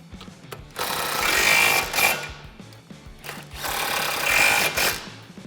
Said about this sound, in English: now we can grab our 15mm nuts and tighten them back down